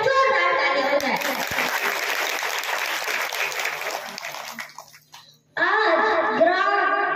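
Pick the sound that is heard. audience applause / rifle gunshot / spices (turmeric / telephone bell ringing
audience applause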